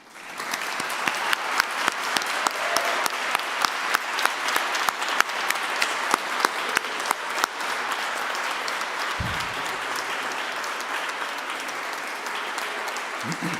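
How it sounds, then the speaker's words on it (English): Dense, steady applause from a standing audience at a graduation ceremony continues for many seconds, with occasional louder individual claps and no speech over it. "you're going to give everyone online a great big cheer and a clap to acknowledge their work over the previous years"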